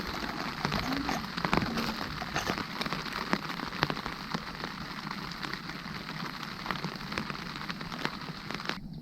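Rain falls on a tent during autumn wild camping in Lincolnshire: a dense, continuous patter of close drops with sharper individual taps scattered throughout, fairly soft overall and with no talking.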